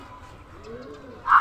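Racing pigeons returning during a training flight, a soft low coo heard close by, followed by a short brighter call at the end, with no talk over it.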